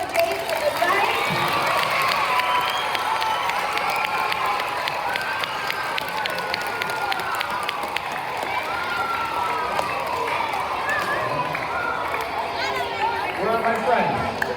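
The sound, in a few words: audience applause after the show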